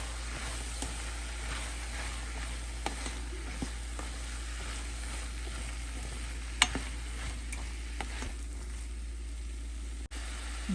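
Bottle gourd pieces frying in a pan for a lentil sambar, giving a faint, steady sizzle over a constant low hum, with occasional soft stirring clicks and scrapes spread sparsely throughout.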